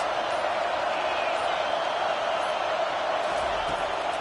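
A home crowd at a football game roars in a dense, continuous wash of cheering and noise, loud and sustained throughout.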